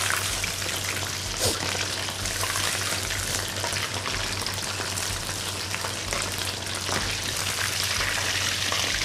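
Chicken tendons deep-frying in hot oil give a steady, dense crackling sizzle with scattered sharp pops, continuous and close throughout with no talking.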